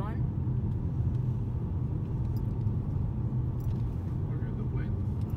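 A car drives the zigzag mountain road up to Trollstigen, giving a steady, deep interior rumble of engine and tyres that holds evenly from start to finish with no breaks.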